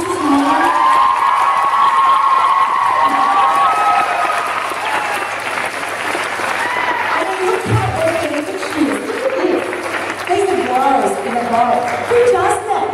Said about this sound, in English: they deserve at least a huge round of applause